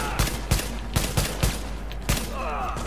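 Gunfire in the shooter game The Division: a series of loud, punchy shots in a steady rhythm, with a brief quieter stretch near the end.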